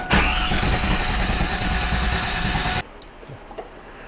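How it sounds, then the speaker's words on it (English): An engine cranks over on the starter with a compression gauge fitted in cylinder number one, a loud, rhythmic churning that runs steadily for nearly three seconds and then cuts off abruptly, leaving a quiet background. "put our gauge into number one, crank the engine over"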